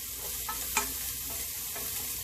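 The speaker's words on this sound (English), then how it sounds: "going to saute it around in my frying pan." Sausage sautéing in a frying pan, a soft steady sizzle with a few light scraping stirs of a wooden spatula, faint and close, no talking.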